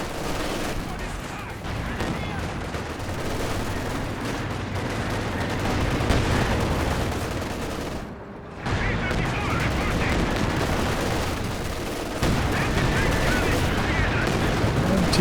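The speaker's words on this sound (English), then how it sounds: "T-34 shots and none of them landing" T-34 tank cannon shots mixed with small-arms gunfire in the real-time strategy game Company of Heroes 2, a continuous dense battle din of rattling fire and thuds, broken by a brief lull partway through.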